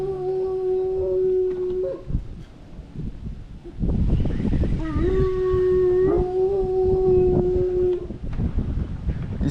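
A dog howls in long sustained tones, breaking off for a moment and then starting again in a second extended howl. The sound is close and fairly loud, set against a noisy outdoor background.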